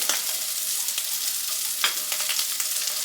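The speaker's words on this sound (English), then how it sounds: "you can tell your sausage is done when it quits sizzling real good" Steady, close sizzling of sausage frying in a hot pan, a dense hiss with scattered crackles and pops throughout.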